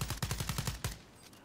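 Rapid bursts of automatic gunfire in the Call of Duty Warzone battle royale game, about nine evenly spaced loud shots over a second, then a final crack and fading tail, with no talk.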